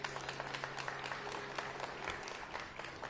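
An audience at a school grand opening ceremony gives steady, moderately quiet applause, with a low hum running underneath throughout.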